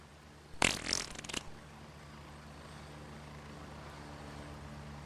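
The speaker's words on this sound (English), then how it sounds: "Who just played the wet fart sound?" A wet fart sound effect bursts out suddenly during Gray Zone Warfare gameplay, a short loud spluttering blast lasting under a second before fading into a steady low background hum.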